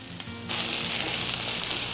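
Onions for breakfast skillet potatoes with bacon frying in a skillet, a faint hum that suddenly bursts into a loud, steady, close-up sizzle held to the end.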